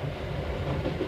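A first-class Pullman-type special expedition train runs on rails, its steady rumble and faint wheel clatter carrying continuously through the short moment.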